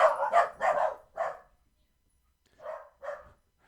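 A dog barks in two quick bursts, about four sharp barks and then two more after a pause, fairly close and clear with quiet gaps between.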